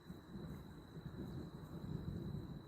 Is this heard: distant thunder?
yes